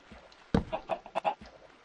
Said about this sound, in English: Why is there a chicken here?